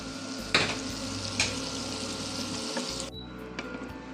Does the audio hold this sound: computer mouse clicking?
no